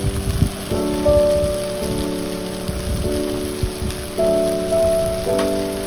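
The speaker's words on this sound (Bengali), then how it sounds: "এভাবে একটু সময় নিয়ে মিডিয়াম টু লো আঁচে স্টেকগুলো ভাজতে হবে।" Beef steaks fry in a pan over medium to low heat, a dense, steady sizzle and crackle heard up close with faint tonal notes of background music running beneath.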